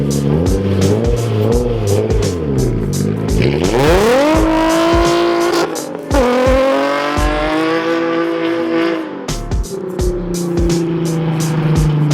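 A Nissan 350Z driven on the road, its engine revving hard through rising gear pulls with a loud, close exhaust note and throttle lifts between shifts, with no talking.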